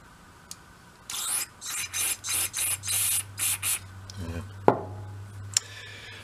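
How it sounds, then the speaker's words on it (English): Carb cleaner is sprayed through the carburetor of a Honda Z50 motorcycle. A run of short hissing spray bursts plays over a low hum, followed by a sharp clunk and a click, all fairly quiet. "So try shooting some carb cleaner through that."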